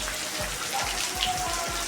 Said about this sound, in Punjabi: ਦੇਖੋ ਮੀਂਹ ਵੀ ਪੈਂਦਾ ਪਿਆ ਬਰਸਾਤ ਦਿਖਾ ਦਿਓ